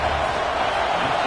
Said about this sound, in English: This crowd trying to do its part to get inside the kick